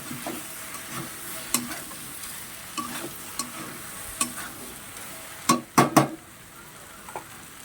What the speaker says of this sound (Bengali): তার আগে আমি সবজিটা ভালো করে নাড়াচাড়া দিয়ে নেব